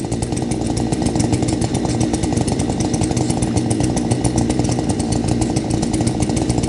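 A gas chainsaw, cold-started with choke and primer bulb, runs with a loud, steady buzzing two-stroke drone close by, holding throughout with no voices.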